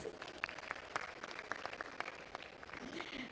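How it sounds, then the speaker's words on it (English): Applause from the audience at the 26th Telecel Ghana Music Awards, a steady, fairly faint wash of clapping from a distant crowd running through the whole stretch. "A round of applause for Telecel, please."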